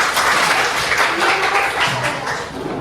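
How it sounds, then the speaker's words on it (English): A class claps together in a round of applause, a dense, steady patter of many hands in a room that fades slightly toward the end. "So give yourselves a round of applause."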